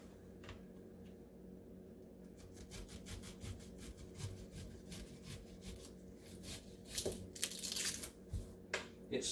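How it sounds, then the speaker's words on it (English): Kitchen knife slicing a fresh onion, a quick series of close, crisp crunching cuts that speeds up and grows louder toward the end, with no talking. "Let's slice that onion up now and see what it looks like."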